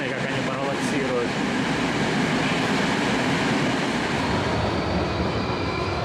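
Moscow Metro train cars rumble steadily past at close range, a continuous loud clatter of wheels on rails.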